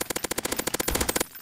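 Rapid automatic gunfire in a Counter-Strike: Source zombie escape match, a fast even stream of roughly twenty close, loud shots that stops abruptly, with no speech over it.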